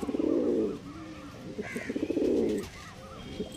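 Pigeons coo in two long, throaty, rolling phrases, close and fairly loud, with a few faint chirps and soft rustling in between.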